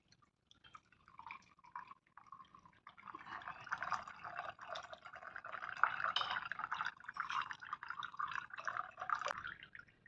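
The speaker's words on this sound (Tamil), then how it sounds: "சூப்பை வடிகட்டிக்கலாம்." Hot thuthuvalai herb soup is strained through a strainer, giving a close, quiet trickle of pouring and dripping liquid that starts sparse and swells into a continuous splashing stream.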